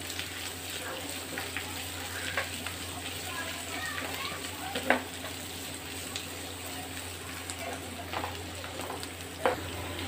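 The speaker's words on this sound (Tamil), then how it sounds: "இது நல்லா பச்சை வாட போகிற வரைக்கும் நல்லா வதக்கணும்" Green chillies and curry leaves sautéing in a pan give a constant soft sizzle, with occasional faint taps of a spoon, while a voice talks over the cooking.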